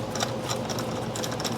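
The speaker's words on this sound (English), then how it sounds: "Now I can take my 19 millimeter and just put the bolts back." A 19 mm socket wrench running bolts back in on a Honda Goldwing rear brake after a pad replacement, giving a steady, close, fast ratcheting clatter.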